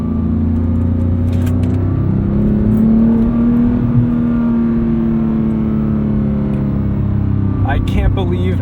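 Manual 991.2 Porsche GT3 with its 4-liter engine revving steadily toward 5,000 RPM on a track, heard from inside the cabin as a loud sustained drone that climbs slightly, with someone talking over it.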